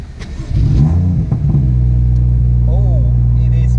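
A BMW M2 with a modified loud exhaust fires up on a cold start, a sharp revving burst settling into a deep, steady, loud idle rumble, with a voice briefly audible near the start.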